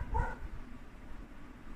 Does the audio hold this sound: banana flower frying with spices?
no